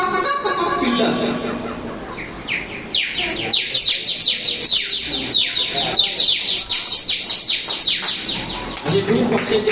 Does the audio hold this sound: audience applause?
no